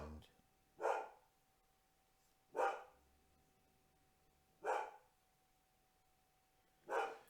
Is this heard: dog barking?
yes